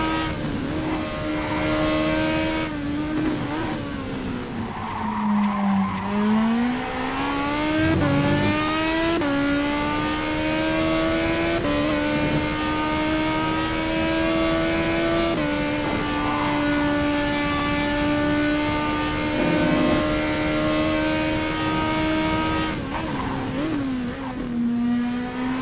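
Racing-sim car engine from Netkar Pro drives steadily for the whole stretch, a loud sustained tone climbing and dropping in pitch as it revs up and shifts, with one brief dip and lift partway through and no voices.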